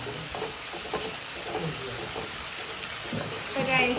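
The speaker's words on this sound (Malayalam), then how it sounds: "ഉപ്പിട്ടിട്ട് ഇനി ഇതിങ്ങനെ കുറേ സമയം വഴറ്റി കൊടുക്കാം" Onions with salt sautéing in a pan for chicken curry, a steady close sizzle with faint stirring scrapes, growing slightly louder near the end.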